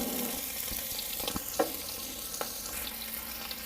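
Ginger sautéing in hot oil for a home-made chicken curry, giving a steady, close sizzle and crackle with a few sharper pops and stirring clicks throughout.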